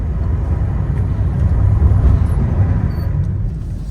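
Renault Clio 3 Initial Paris on new tyres accelerating, heard from inside as a loud, steady low engine and road rumble that swells slightly midway.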